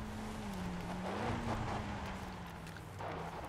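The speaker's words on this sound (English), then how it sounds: "What is this truck I hear?" A truck engine in Far Cry 5 drones steadily at a low pitch, rising slightly then settling, with faint outdoor ambience around it.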